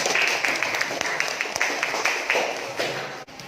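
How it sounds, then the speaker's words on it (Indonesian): A classroom group applauds together in a steady, dense patter of clapping that lasts a few seconds, moderately close and fairly soft, with faint voices mixed in. "Ya, tepuk tangan buat kita semua."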